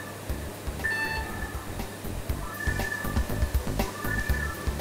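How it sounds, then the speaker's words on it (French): A coordinate measuring machine in a university mechanical engineering workshop gives short electronic beeps as its probe touches a part: a clear tone near the start and a couple of fainter ones later, over a steady mechanical hum with low thumping. "quand elle bip, c'est-à-dire qu'elle touche la pièce et qu'elle enregistre les mesures."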